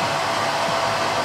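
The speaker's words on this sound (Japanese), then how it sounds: "でドライヤーやってますよね" Steady hair dryer blowing on freshly permed hair in a salon, a continuous close, loud airflow whoosh with no talking.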